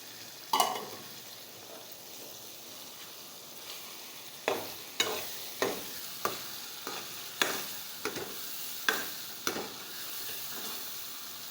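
Spices, ginger-garlic paste and tomato sizzle in a pan under steady frying hiss, with about a dozen sharp scraping clicks of a spoon stirring at uneven intervals. No one speaks.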